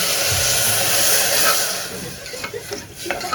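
Water poured into a hot pan while cooking baby food hisses loudly and steadily in a broad steamy rush, easing off toward the end as a few small clinks and a voice come in.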